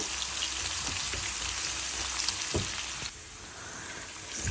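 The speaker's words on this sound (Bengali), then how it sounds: "পেঁয়াজ সরিষা আর একটু জিরা ফোড়ন দিয়ে এখন এটাকে ভাজা ভাজা করে নিব" Onion, mustard seeds and cumin frying in hot oil in a pan, giving a dense, steady close sizzle with crackling pops; the hiss drops slightly and softens partway through, then rises again.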